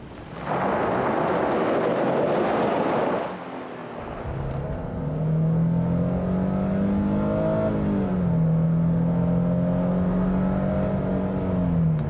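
A 2022 Nissan Frontier PRO-4X compact off-road pickup drives, first a loud rushing roar and then a steady engine drone whose pitch climbs and dips with gear changes, heard from inside the cab under wind noise.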